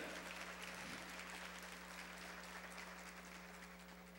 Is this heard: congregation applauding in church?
yes